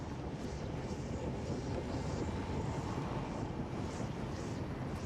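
A steady engine-like drone inside the game Oblivion Remastered holds a constant, even rumble throughout, with no talking over it.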